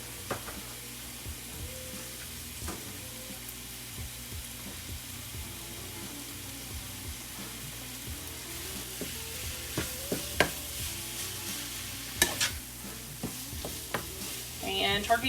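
Ground turkey fries with onions and garlic in a pan, a steady sizzle running throughout while a cooking spoon scrapes and taps against the pan in irregular bursts that grow busier and louder toward the end.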